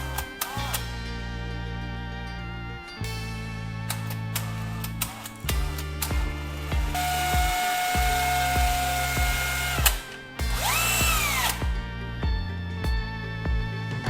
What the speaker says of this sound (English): I'll drill a hole into it to make a handle for our soldering pen.